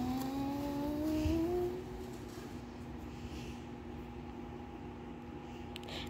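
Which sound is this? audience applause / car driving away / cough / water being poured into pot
car driving away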